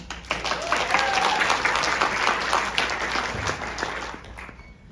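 Audience applause welcoming a new panel at a manga and classic literature event, a steady, full burst of clapping that swells in quickly, holds for several seconds and then tapers away.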